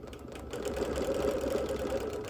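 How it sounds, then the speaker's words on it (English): A sewing machine runs in a steady, even whir while ditch quilting around the centres of small hexie blocks on a busy printed quilt, one continuous burst at moderate volume. "So, like the hexie blocks, I'm ditch quilting around the center."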